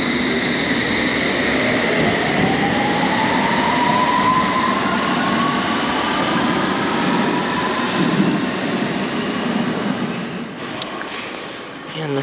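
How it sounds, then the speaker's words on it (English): A London Underground train runs steadily at a Kensington station platform, with a loud continuous rumble and a faint rising whine, and a voice speaks briefly over it. "this is the next train is the one I'll take to my next station, which is High Street Ken"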